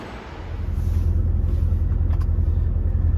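Forklift trucks work at a warehouse loading area, giving a steady, loud low engine rumble that swells after the first half second and holds without pause.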